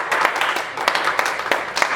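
A group of kids claps for themselves after a karate lesson, giving scattered, uneven bursts of close applause over a couple of seconds.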